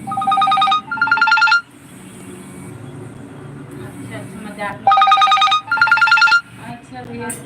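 A telephone rings during a Hindi-language live stream, sounding in two clear bursts of bright, harmonic trilling at the start and again near the end, loud and close, with someone talking quietly in the gaps.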